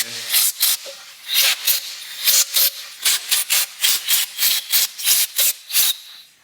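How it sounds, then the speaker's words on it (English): Compressed air blows out the bolt holes on a Johnson/Evinrude outboard engine during a thermostat replacement: a rapid series of short, sharp hissing blasts, close and loud, with no talking. "Just blow them with some compressed air."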